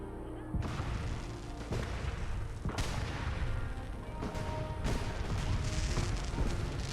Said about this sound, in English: See some beautiful fireworks over Nuka World.